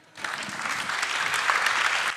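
Audience applause at a seminar round-table on the future of train stations, a dense wash of clapping that starts abruptly and holds steady for about two seconds, with no speech over it.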